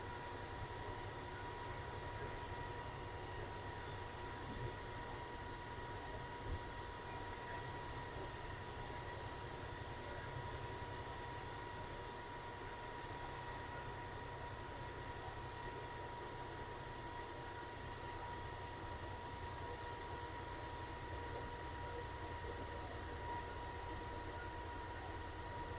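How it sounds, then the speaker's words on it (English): A steady, distant rumble of a passing freight train at a road crossing continues throughout, with a constant low hum and faint tonal whine, no talking. "Got to wait for the train to go through before you can cross,"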